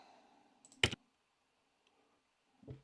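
A single sharp computer mouse click on an online auction bid button, close and crisp, followed by a fainter second click-like tap after a quiet pause.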